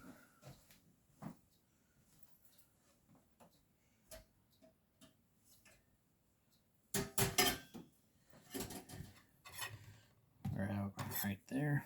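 A small knife chops through Fuji apple, sweet onion and hot sausage on a board, first a scatter of light separate taps, then louder clustered bursts of quick cutting strokes, close by with no talking.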